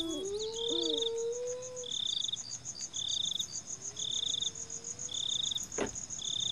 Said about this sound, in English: And there are the crickets again.